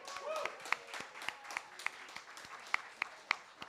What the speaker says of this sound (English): let's give a big round of applause for our first panel